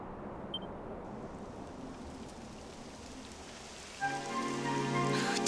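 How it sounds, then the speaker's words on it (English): Rain begins falling in the Dragon Quest XI S game world, a soft steady hiss that swells suddenly near the end along with a brighter layered musical tone. "It would have to go and start raining, wouldn't it?"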